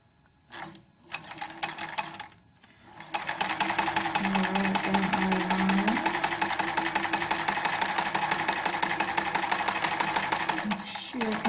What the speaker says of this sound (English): We're going to sew that piece in our machine, catching right in the corner.